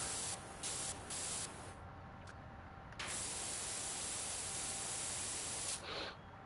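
Virtual pressure washer spraying in PowerWash Simulator, a broad steady hiss that cuts in and out in short bursts, then runs continuously for several seconds with a brief pause near the end.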